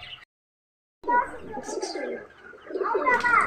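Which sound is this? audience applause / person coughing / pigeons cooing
pigeons cooing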